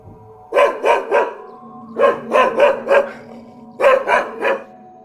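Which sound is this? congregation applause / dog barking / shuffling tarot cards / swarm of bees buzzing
dog barking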